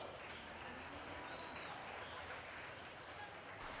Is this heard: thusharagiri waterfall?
no